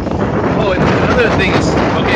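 Strong wind gusting during Hurricane Irma in Key West, a loud continuous roar buffeting the microphone while someone talks over it.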